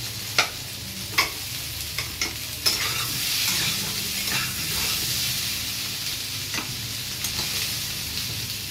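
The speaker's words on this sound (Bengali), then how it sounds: "আলু মোটামুটি ভাজা হয়ে গেছে" Boiled potatoes frying in a pan crackle and hiss close up, punctuated by several sharp scrapes and taps of a spatula in the first few seconds.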